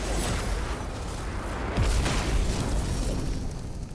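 A warp charge detonates in Warhammer 40,000: Chaos Gate - Daemonhunters, a muffled blast swelling out of a constant low roar, with a deeper thud near the middle before the rumble eases off.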